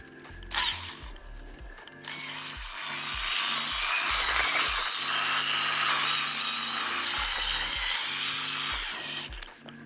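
A power drill whirs and grinds steadily, close and loud, its motor pitch pulsing as it bores down into garden soil, with a brief clatter at the start.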